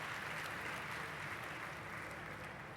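Audience applause at an African education and enterprise summit, a steady dense wash of clapping sustained throughout at moderate volume, with no talk over it.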